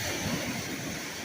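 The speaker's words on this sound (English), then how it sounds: "I love these waves." Lake waves break on a battered stony shoreline piled with freshly deposited stones, a continuous close wash of surf mixed with wind rushing past the microphone.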